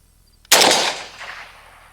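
A Century Arms Romanian RPK AES10B2 rifle fires a single loud, close shot on an outdoor range, a sharp crack whose echo rings out and decays over about a second and a half.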